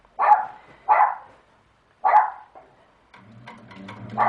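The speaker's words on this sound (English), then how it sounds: "there's my puppy barking again." A puppy barks indoors near a quilting session: three sharp, loud barks spaced about a second apart, then a brief pause and softer, fussier yips and rustling.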